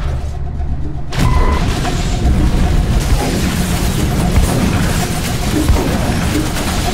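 Fire support explosions in a combat video game: a sudden heavy boom after a brief quiet, then a sustained rumbling roar of blasts and debris that holds loud for several seconds.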